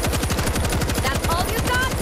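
Rapid, sustained automatic gunfire in the zombie shooter World War Z Aftermath during a Marseille missile-defence mission: a dense, loud, steady stream of shots with no break.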